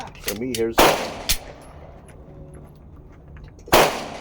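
Glock 19X pistol shots fired on a range: a quick pair of sharp, loud reports near the start, a single shot just after, then a long pause before one more close, loud shot near the end.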